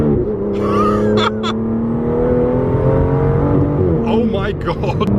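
An Aston Martin DBS with a tuned 850 bhp 5.2-litre twin-turbo V12 revs hard from inside the car, its loud, close engine note rising and swelling through the gears with wheelspin.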